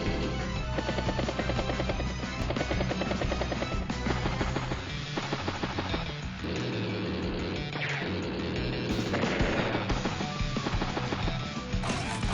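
A battlecopter in the video game Advance Wars: Days of Ruin, a busy whirring rotor and engine drone mixed with rapid machine-gun-like rattling and game music, loud and continuous with no talking.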